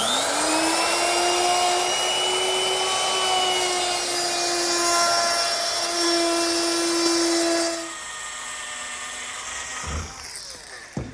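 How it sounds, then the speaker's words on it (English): A power tool whines steadily at close range while chamfering the edges of an oak bathroom vanity backsplash clamped in a vise, then winds down and stops, followed by a few faint knocks. "I'm going to chamfer 3 edges."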